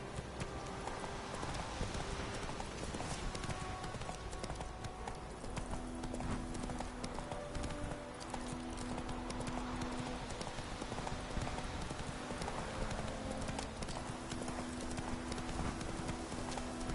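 Horse galloping in the video game The Witcher 3, a fast continuous clip-clop of hooves, loud and steady throughout, with faint background music and no talk.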